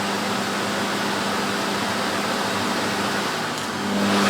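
A vacuum cleaner motor on its minimum power setting gives a steady broadband whooshing hum, constant and close, with a slight rise near the end.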